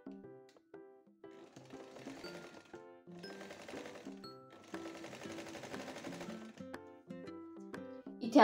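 A sewing machine stitches a lined katori blouse in several close, rapid bursts of rattling needle strokes, separated by short pauses and single slow stitches.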